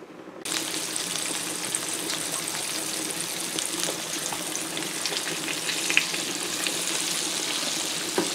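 A flour-dredged pork chop drops into hot oil in a pan and sizzles steadily, a constant crackling hiss that continues without a break.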